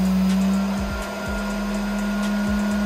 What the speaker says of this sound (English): Okay, the vacuum's going.